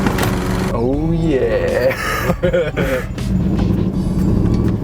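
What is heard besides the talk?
engine of a 1994 BMW 530 on first startup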